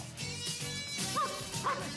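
A dog barks and yips repeatedly in a K-9 film trailer, the bursts mixed into a busy, continuous soundtrack bed at moderate level.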